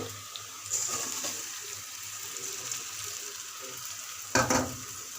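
Rice frying in a pan for chicken biryani, a steady soft sizzle and hiss running throughout, with light scraping of stirring and a brief louder clatter near the end.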